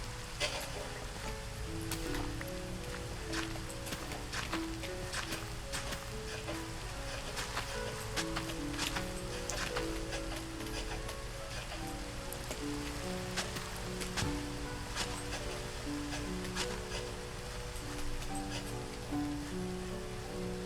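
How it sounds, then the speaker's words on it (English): Continuous rain patter in Minecraft with a steady hiss and scattered drops, layered over soft background music with sustained tones. "Hooray! It's raining!"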